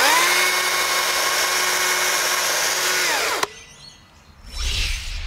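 A STIHL cordless garden saw cuts through timber with a loud, close, steady whining drone for about three seconds. It cuts off abruptly, then a brief rustle of wood and debris follows.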